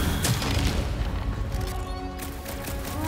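In the video game Marvel's Guardians of the Galaxy, gunfire is aimed at tentacles, producing a dense barrage of heavy booming blasts and bursts that slowly thin out.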